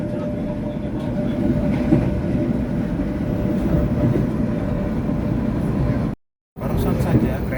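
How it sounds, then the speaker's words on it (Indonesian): Manahan passenger train running straight through Jatinegara station without stopping, a steady loud rumble of wheels and carriages sustained throughout, broken by a brief dropout near the end. "Barusan saja kereta api Manahan melintas langsung stasiun Jatinegara"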